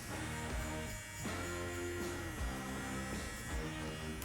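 Electric hair clippers with a fade blade in the open position running close and steady, a continuous buzzing hum with slight pulses as the clippers move through hair.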